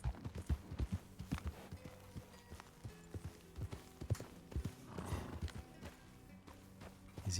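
Horse hooves clip-clop in an open-world western video game during a legendary hunt, a steady run of close, distinct footfalls with an occasional whinny and faint background talk.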